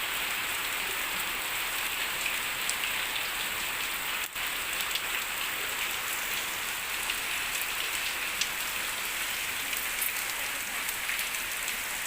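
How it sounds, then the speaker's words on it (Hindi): Heavy rain pours steadily in a village home setting, a dense, loud, unbroken hiss of drops on surfaces lasting throughout with no voices. "देखो कितनी तेज बारिश आ रही है।"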